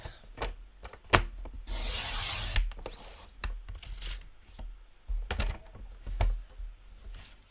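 A paper trimmer slices a 12.5 cm strip of paper for a handmade card: a sustained scraping slide of the blade, framed by sharp clicks and taps of the trimmer, close and clear with no talk.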